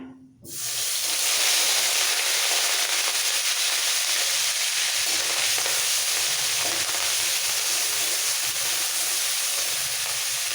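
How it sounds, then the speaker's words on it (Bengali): Onion paste hits hot oil with a sudden loud hiss, then a strong, steady close-up sizzle and spatter continues for several seconds in a pot of papaya and potato curry. "পেঁয়াজ বাটাটা দিয়ে দিচ্ছি এই সময়"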